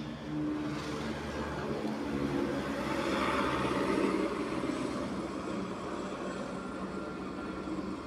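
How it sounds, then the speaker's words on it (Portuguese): A broad, steady roar of an airplane passing overhead, swelling slightly toward the middle and holding for several seconds with no talk over it. "um avião passou aí"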